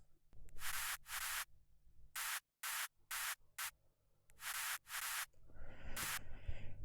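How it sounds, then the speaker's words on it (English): Hissing white noise bursts switch on and off in blocky chunks of varying length, steady and broadband, followed by a softer rushing noise bed. "this whole layer here is only white noise"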